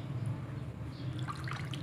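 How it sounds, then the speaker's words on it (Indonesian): Water trickles and drips faintly during a skincare rinse, a soft, steady wash of liquid over a low background hum, with brief brighter splashes toward the end. "Kita basuh air, cuci, rendam sebentar."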